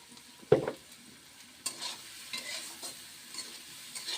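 Green chilli and onion fry in a pan with a soft ongoing sizzle, opened by a sharp clatter of a utensil and followed by scattered scraping stirs at close range.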